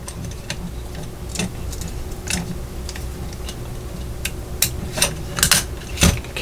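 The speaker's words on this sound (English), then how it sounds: "Okay, and it's going to screw in." A small 2x16 screw being driven into a part of a T-800 Terminator scale model, heard as close, dry ticking clicks that are sparse at first and grow denser and louder toward the end.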